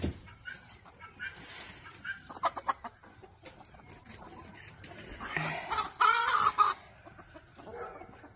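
Farmyard chickens cluck and squawk in a busy morning feeding scene, with irregular bursts and a louder flurry of calls near the end, mixed with ambient outdoor noise.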